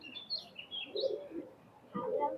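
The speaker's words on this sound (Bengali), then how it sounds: "গোল্ডেন ক্রস কবুতর।" A pair of golden cross pigeons in a pigeon loft give soft, close cooing and chirping calls in a few short bursts, with faint speech in the background.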